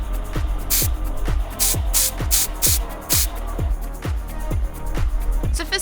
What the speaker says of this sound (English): So I'm gonna spray her Chaos Black